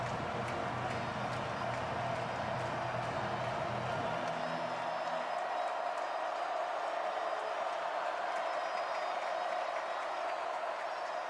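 Stadium crowd at a South Carolina versus Clemson college football game, a steady broad roar of cheering and noise filling the air, with a heavier low rumble fading after a few seconds while the din continues.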